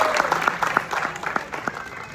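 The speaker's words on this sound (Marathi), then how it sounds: "एकदा काकांसाठी जोरदार टाळ्या प्लीज." An audience gives a short burst of applause for an elderly man at an informal gathering, scattered individual claps close by rather than a dense roar, with a voice briefly audible underneath.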